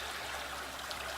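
Creek water flowing steadily by a bridge on a hot, humid day, a soft continuous trickling hiss heard faintly and alone with no voices.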